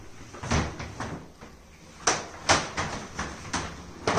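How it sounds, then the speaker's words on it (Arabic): Someone opens and closes a PVC shower cabin door several times, giving a series of light plastic knocks and rattles, close and fairly quiet, with no talk. "دونك تقدر تغلق الباب من الداخل ولا تغلقها من برا"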